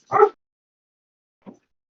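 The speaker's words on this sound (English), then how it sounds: "my dogs are going nuts" Dogs bark indoors, one sharp close bark followed a moment later by a softer, shorter one, with silence around them.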